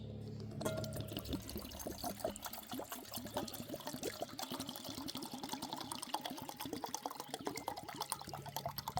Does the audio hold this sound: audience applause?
no